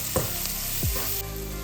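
A whole onion sautés in a pan for prawn fried rice, giving a close, steady sizzle with a couple of quick stirring scrapes and no talking.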